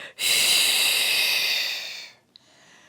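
A big, forceful exhale during a beginner pilates exercise, a steady breathy rush lasting about two seconds before fading to near silence, with a small click at the end.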